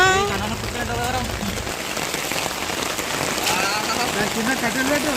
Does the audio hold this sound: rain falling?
yes